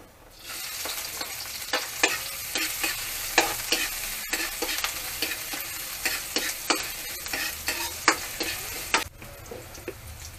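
Ginger fries in a little oil in a pan, with a steady sizzle broken by frequent stirring scrapes and clatters of a utensil against the pan, close and clear with no voices.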